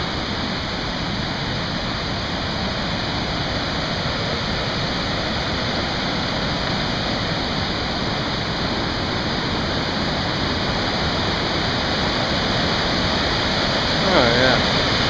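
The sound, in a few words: waterfall and rapids at Swallow Falls State Park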